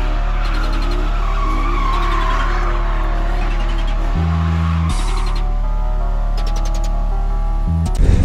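A Chevrolet Camaro Bumblebee with a 3.6-litre petrol engine drives along, its engine holding a loud, steady drone with gear-change dips partway through and tire noise riding over it.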